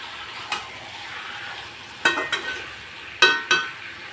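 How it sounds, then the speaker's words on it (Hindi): Desi chicken being stirred in a kadhai with a spoon, giving a few brief scraping sizzles against a low steady frying hiss, close and moderately loud. "उसके बाद अच्छे से चला के फिर ढक देंगे।"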